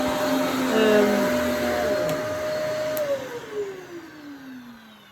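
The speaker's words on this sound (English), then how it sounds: "I love this kind of vacuum." A Riccar upright vacuum cleaner roars steadily up close, then its motor pitch slides downward as it winds down.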